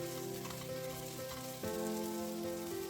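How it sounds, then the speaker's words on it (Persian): Vegetables and onion sizzle steadily as they sauté in a hot pan, close up, with a low hum of background tones running underneath. "سبزیجاتم رو با پیاز یک کمی تفت میدم."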